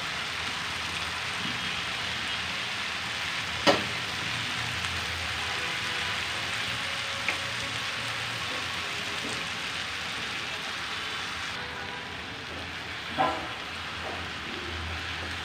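Par-cooked polao rice is folded into vegetables frying in a pan, with a steady rain-like sizzle and a few sharp clacks of the utensil against the pan.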